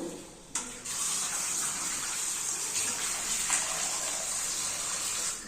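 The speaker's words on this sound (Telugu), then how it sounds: "చికెన్ అండి ఫస్ట్ వాష్ చేసుకుందాము" Raw chicken is washed under a steady gush of tap water pouring close by, with faint splashes and shifts as the meat is handled beneath the stream.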